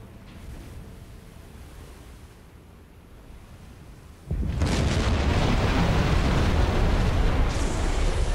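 Torpedo striking a ship in the submarine game Silent Hunter 4: Wolves of the Pacific, a low rumbling ambience that suddenly erupts into a loud, sustained roaring blast partway through.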